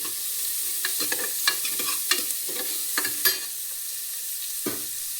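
Onion fries in a pan for sprouted horse gram sambar, a steady sizzle broken by repeated scraping stirs of a spatula, close and clear with no voices.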